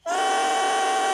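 A bassoon reed played alone, crowing: a loud, steady buzzing tone with dense upper harmonics that starts abruptly and holds for about a second.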